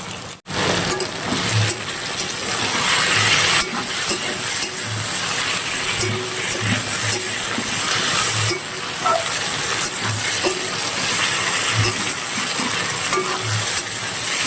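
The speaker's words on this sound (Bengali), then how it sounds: "সবজি নেড়ে নেবো। আদা রসুন বাটা দিয়ে দেবো।" Vegetables with ginger-garlic paste fry and sizzle in a pan for a pangas fish and eggplant dish, a steady loud hiss broken by soft periodic scraping of a spoon stirring.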